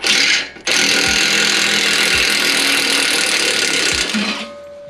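Impact gun driving a nut while fitting a catalytic converter shield on a first-generation Toyota Sequoia or Tundra, a loud, close, continuous hammering rattle after a brief stop, then winding down at the end.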